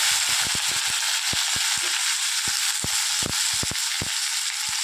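Onion and chopped tomato fry in hot oil with a bay leaf for a cauliflower curry, making a loud steady hiss with scattered sharp crackles and pops.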